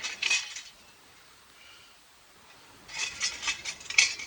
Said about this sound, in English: Let's get our little rocket stove out.